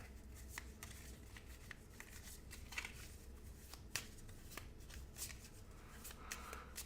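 Playing cards for the board game Sentinels of the Multiverse are shuffled close up. Quiet, repeated riffles and soft card slaps come in an irregular rhythm over faint room noise.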